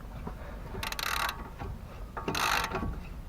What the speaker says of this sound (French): il suffit de dévisser, vous voyez comme ceci